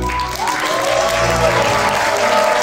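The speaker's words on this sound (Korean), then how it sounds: "아낌없는 박수 부탁드립니다." Loud, sustained applause from wedding guests in a hall as the two mothers make their entrance, with music playing underneath throughout.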